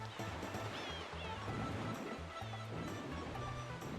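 Water splashing in Super Mario Galaxy, a continuous surf-like wash of watery noise with game tones and faint voice-like sounds layered over it.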